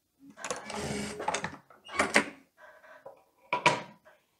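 A sewing machine backstitches a seam at the neckline of a teddy coat in short bursts: a longer run of stitching, then two brief stitch runs with pauses and small handling sounds between.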